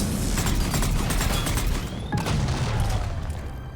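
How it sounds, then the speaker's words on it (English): A grenade explodes during a firefight in the Mass Effect 3 video game, a dense loud roar of blast and gunfire with a brief sharp hit midway, continuous and close throughout. "Oh, I almost died to that grenade."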